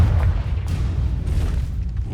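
A Confringo spell blast in the Hogwarts Legacy video game, a deep booming explosion with low rumbling energy sustained across the moment, loud and close with no talking.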